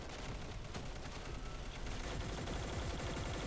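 An automated turret fires in the Black Squad shooter game, a dense, continuous rattle of rapid gunfire and booms close up with no pauses.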